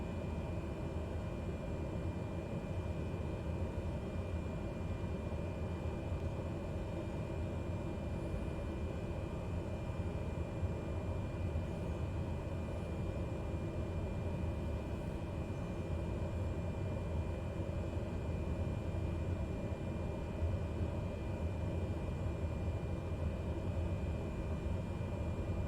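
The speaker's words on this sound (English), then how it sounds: "the ambience of, or the white noise of the plane as we slowly taxi to wherever we're supposed to go" A steady, unbroken drone from an airliner's engines as the plane slowly taxis along an airport taxiway in a flight game. The hum holds a flat, noisy hiss throughout with no other sounds.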